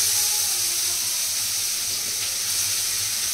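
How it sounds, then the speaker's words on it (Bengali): Chopped onion hits a hot pan and sizzles, a loud steady hiss of frying that fills the space continuously with little variation and no talking. "এবারে পেঁয়াজ কুচিটা আমি দিয়ে দিচ্ছি"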